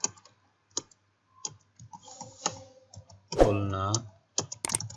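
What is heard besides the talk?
typing on a computer keyboard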